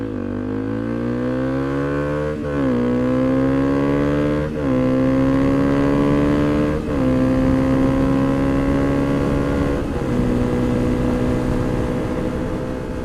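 A Honda CRF250L motorcycle engine runs steadily nearby, its droning hum stepping up in pitch several times as if shifting or revving, with no talking.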